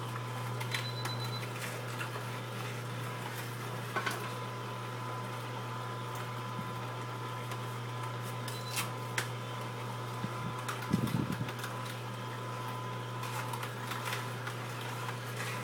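A juicer runs through chunks of cut watermelon, giving a steady, even motor hum that holds throughout, with a few faint clicks and knocks on top.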